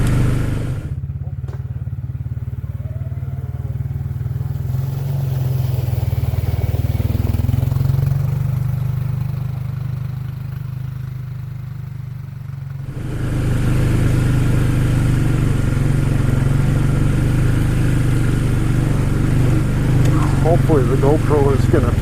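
ATV engine running steadily along an off-road trail, a loud continuous low rumble that dips briefly and then surges louder; a voice talks over it.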